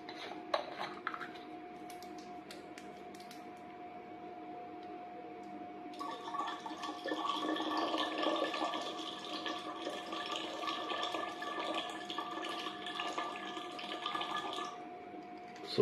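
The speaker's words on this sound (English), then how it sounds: "So we'll be topping these batteries now with the water." Ordinary water is poured from a bottle into inverter batteries to top them up, a soft trickle that swells into a louder, sustained splashing stream midway, with faint clinks around it.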